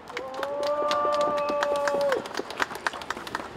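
A crowd claps at a press conference outside Seocho Police Station in Seoul, a steady patter of many hands with a sustained tonal whine over the first two seconds before the clapping thins into scattered claps.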